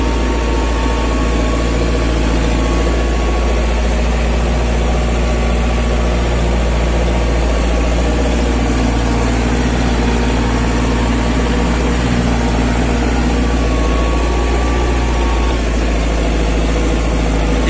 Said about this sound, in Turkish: Gidiyor traktör, yok demiyor.